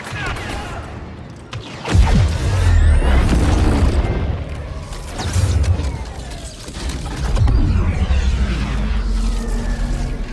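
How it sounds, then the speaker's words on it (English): Detonation explosions in the Star Wars Battlefront II video game, a series of deep booming blasts and rumbling impacts layered with battle noise, loud and close over about ten seconds. "Beginning detonation sequence."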